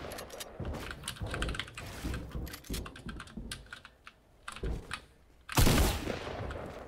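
Bursts of gunfire in a Fortnite match, with rapid clustered shots fired through walls, fairly close and sharp, separated by brief pauses and ending in a louder blast.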